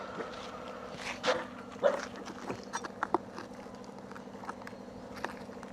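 A small street dog eats food beside a road, with soft chewing, licking and scuffling noises and a few sharper clicks amid light roadside ambience, close and fairly quiet.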